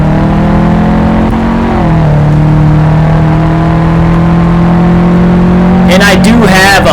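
A steady sports car engine drone in the Gran Turismo 2 video game holds a low pitch throughout, rising briefly near the end, with a voice talking over it.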